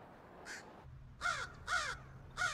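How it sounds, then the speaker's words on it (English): A crow caws four times in separate harsh, hoarse calls spaced about half a second apart, fairly close and clear over a quiet low background hum. "Scientists have identified over 250 distinct crow calls."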